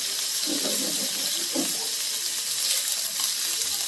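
Scallops searing in a hot pan, a steady close hiss and sizzle that holds evenly for a few seconds, with a few faint low clunks under it and no talk.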